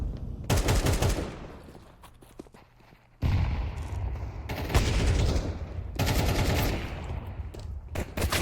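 Rapid pistol gunfire in a competitive shooting video game match, bursts of loud, dense shots and overlapping fusillades with a brief lull before the firing resumes.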